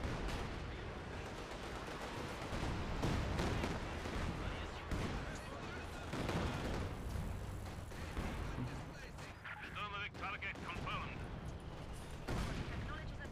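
Strafing-run gunfire in a World War II tank video game, a dense, continuous rumble of distant bursts and booms layered over battle noise, with a voice talking through it.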